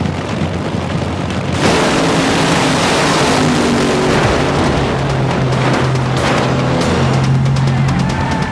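Drag racing car roaring down the strip in the final of the national dragster race at Englishtown, New Jersey, a loud sustained broadband engine blast that kicks in after a quieter start and holds steady with crowd-like wash.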